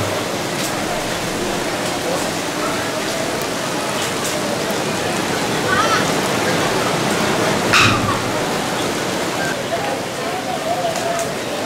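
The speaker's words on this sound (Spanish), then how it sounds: "Está empezando a llover aquí con pleno sol radiante." Steady, dense rain pours down continuously under bright sunshine at a hotel in Manzanillo, Colima, a loud even hiss with a few faint clicks and taps scattered through it.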